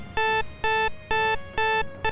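An alarm clock rings in four loud, evenly spaced electronic bursts with a fifth cut short, each a harsh buzzing tone heard close and alone.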